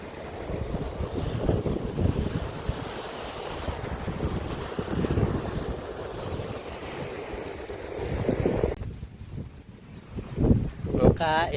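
Sea breeze at a seaside park in Kuwait's Maliya area buffets the microphone in loud, gusting rumbles throughout, with surf or water faintly beneath and a voice briefly heard near the end.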